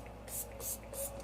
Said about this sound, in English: This is our Oil Strike finishing spray.